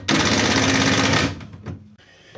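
A drill drives a screw through the end of a wooden side table for a miter saw station, one loud sustained whirring burst lasting just over a second, followed by a few short clicks and clunks.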